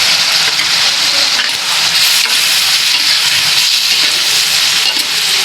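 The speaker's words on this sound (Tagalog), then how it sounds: "maglalagay tayo ng soy sauce" Soy sauce hitting pancit canton noodles in a hot pan sets off loud, steady sizzling and hissing with stirring scrapes, continuous and close with no talk.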